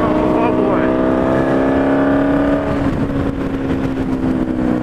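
A car's engine drones loudly and steadily in sixth gear on a busy road, its tone holding nearly level as it pulls forward, with traffic noise around it.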